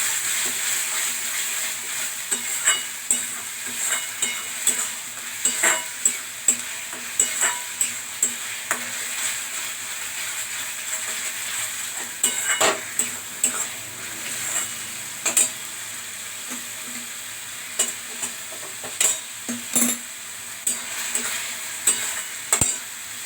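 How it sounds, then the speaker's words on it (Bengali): Masala spice mix with salt being sautéed and stirred in a pan for masala chickpeas: a steady close sizzle broken by repeated scraping, clacking stirring strokes at an uneven rhythm, with no talking. "এবারে একটু ভালো করে মশলাটা কষতে হবে"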